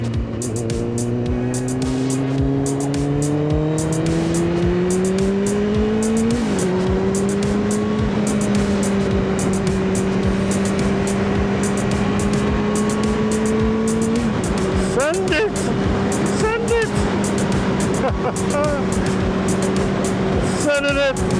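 A Kawasaki ZX9R motorcycle on a road ride, its engine droning loud and steady with rising revs, a brief gear-change dip, and rumbling wind noise throughout.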